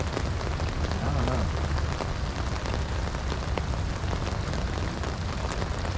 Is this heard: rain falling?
yes